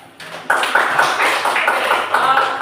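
Group applause in an indoor school training session, a loud burst of clapping starting after a short pause and continuing steadily to the end.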